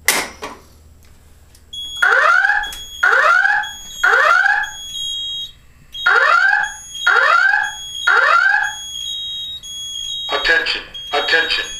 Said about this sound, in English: the voice evacuation panel is set to slow whoop